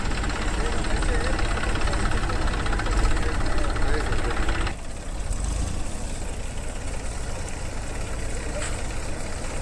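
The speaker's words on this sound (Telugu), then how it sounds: "ఒక ట్రాక్టర్ ఇటే వైర్ అంతా లాగేస్తుందండి" A tractor engine labours steadily while pulling wire taut, a continuous mid-pitched rumble close by that shifts and drops slightly midway, with voices talking over it.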